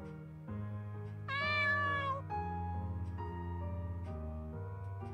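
A stray cat in a video game meows several times up close, with one long, rising, drawn-out cry standing out in the middle of softer mews.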